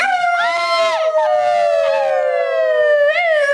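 Wailing siren with strong harmonic sweeps rising and falling over several seconds, loud and continuous, with dogs howling along in response; no speech is heard.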